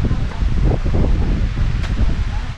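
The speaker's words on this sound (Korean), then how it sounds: "와, 바람 진짜 시원하다." Wind blows outdoors at a scenic spot in a German-themed village in Korea, buffeting the microphone with loud, continuous low rumbling gusts throughout.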